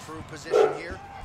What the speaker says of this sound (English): Every time I'm in trouble in the game, my dog barks.